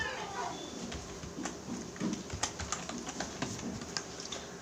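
Quick clicking keystrokes on a computer keyboard while entering text in Photoshop 7.0, an irregular run of light taps close by, with a voice speaking softly at times.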